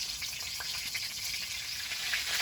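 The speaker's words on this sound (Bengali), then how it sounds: "কড়াইতে তেল দিয়ে দেব তেলের মধ্যে দেব শুকনো লঙ্কা গোটা জিরে" Dry red chilies and whole cumin seeds frying in hot oil in a wok, a steady, soft, even sizzle that holds throughout with no voices.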